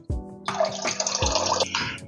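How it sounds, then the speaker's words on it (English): A short liquid splash of pickle juice poured into a bowl of bloody mary wing sauce, a brief gurgling pour of about a second and a half, close and fairly quiet, with no talk. "Splash of pickle juice."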